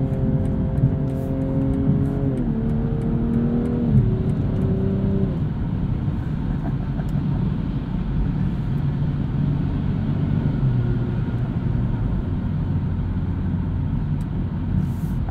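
A 2022 BMW M240i xDrive coupe accelerates on a night drive, its engine note climbing steadily through the gears before settling into a loud, continuous rumble inside the cabin.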